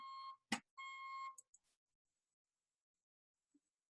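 A few electronic beeps from outside a window in quick succession, steady and tonal, followed by a couple of short clicks and then near silence.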